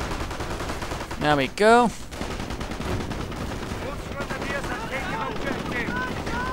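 Gunfire from Stormtroopers firing on a Staghound armoured car in a WWII strategy game, with bursts of shots and a couple of loud whooshing projectile sounds over continuous battle noise, while someone talks briefly.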